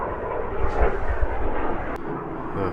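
A jet aircraft roars overhead with a loud, broad rumbling engine noise that swells and lingers throughout, no voices present.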